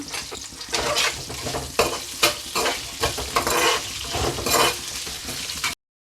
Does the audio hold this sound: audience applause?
no